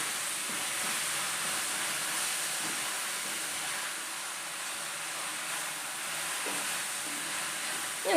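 Onions with turmeric powder sauté in a hot pan for Kerala-style beef curry, a steady close sizzle with faint scrapes of stirring throughout.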